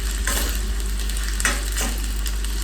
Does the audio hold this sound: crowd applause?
no